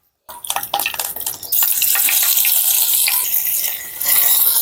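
Loud, steady sizzling of masala-coated fish frying in hot coconut oil, with a few clinks and stirring sounds at the start, then a continuous bright crackle throughout.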